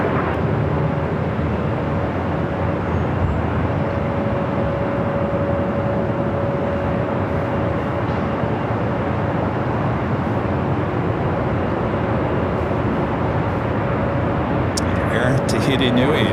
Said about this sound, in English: Tahiti Nui, flight heading to Paris, now rolling down the 25 right